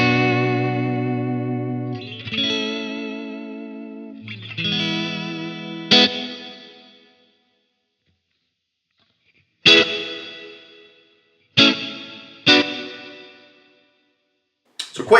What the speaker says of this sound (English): Let's bring the reverb in.